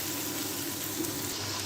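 Tomato masala cooking down in a pan for smoking dum aloo, a soft, steady sizzle and faint bubbling that stays even and quiet throughout.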